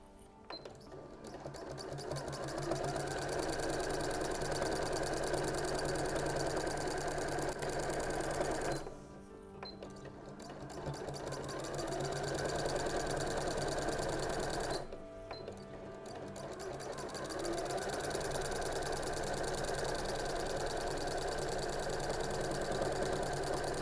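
A sewing machine with a start-stop button runs in long steady bursts of rapid stitching on a Christmas stocking, pausing twice briefly before starting again, close and even.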